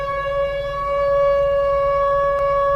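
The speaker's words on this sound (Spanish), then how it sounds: "tenían sirenas que sonaban en horarios perfectamente conocidos, como llamando a su personal a cumplir la tarea diaria" A factory siren calling workers to their shift, a steady droning wail that holds one pitch throughout, moderately loud and alone, with no talking.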